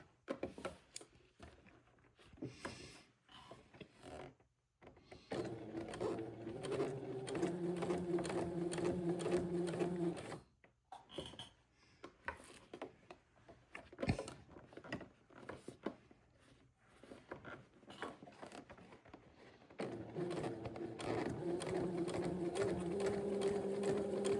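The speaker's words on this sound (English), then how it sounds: "So I'm going to sew right next to the edge of the folded neckband. Go kind of slow so that I don't miss it" Sewing machine stitching slowly along the edge of a folded neckband on an Eton suit: two sustained whirring runs of steady stitching, separated by pauses with handling clicks and light taps, close and moderately loud, with no talk.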